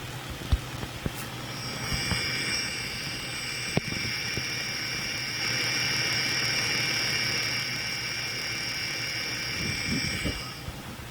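A running car engine hums near the power steering pump housing on its left-hand side, with a steady low drone, a thin high whine layered above and a few sharp ticks, heard up close.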